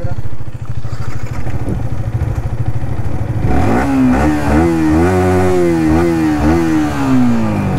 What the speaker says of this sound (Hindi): तो गाइस R15 का भी एग्जॉस्ट नोट सुनी लिया आप लोगों ने